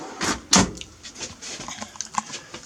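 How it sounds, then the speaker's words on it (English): Cutlery drawer in an Adria Matrix 520 ST motorhome sliding and clattering, with a sharp knock near the start followed by a few lighter rattles and clicks, close and fairly quiet. "cutlery drawer."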